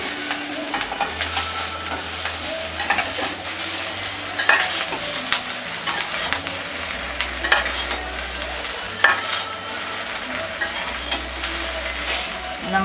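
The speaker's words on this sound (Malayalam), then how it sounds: "ഇത് മൊത്തം അതിലേക്ക് ചേർത്ത് കൊടുക്കാം. എന്നിട്ട് അതൊന്ന് ഇളക്കി യോജിപ്പിക്കാം." Hot tempering stirred into dhokla batter in a pan, a continuous sizzle and bubbling with repeated scraping and clinking strokes of the spoon, close and steady, with a low hum underneath and no talk.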